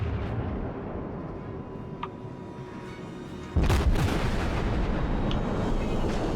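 A warship firing a gun volley in World of Warships, a heavy booming blast midway that cuts in over the quieter ambient rumble of the sea battle and then rolls on as a sustained roar.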